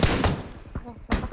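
Heavy gunfire booms in PUBG Mobile, with a loud blast at the start and another near the end, while a voice talks in between.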